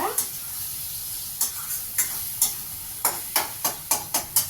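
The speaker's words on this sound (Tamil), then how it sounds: "பிரண்டையை நல்லா போட்டுட்டு நல்லா அந்த எண்ணெய் கசைஞ்சு வர வரைக்கும் நம்ம வந்து வதக்கணுங்க." Pirandai (veldt grape) sautéing in hot oil in a pan for a curry, a steady sizzle broken by a regular series of sharp scraping stirs from a spoon, close and distinct, about once every half second.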